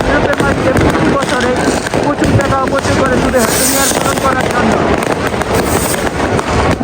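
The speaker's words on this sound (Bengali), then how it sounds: "সাইডে দিকে বোমের এত শব্দ ছিল যা বলার বাহিরে" New Year fireworks exploding in Europe, loud crackling bursts overlapping continuously against background noise and wind, with distant voices and chatter mixed in throughout.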